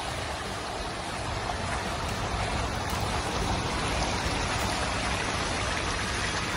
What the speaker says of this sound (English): Gas is coming out of the water.